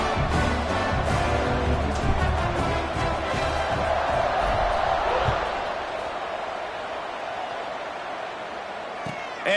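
Stadium crowd noise in a football video game, a continuous loud roar that swells and then eases slightly, with scattered thuds and commentary underneath.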